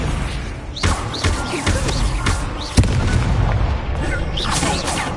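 Repeated Incendio fire spells cast in Hogwarts Legacy, booming bursts and whooshing thumps landing in quick succession over a busy, loud battle din, with a voice shouting spell names throughout.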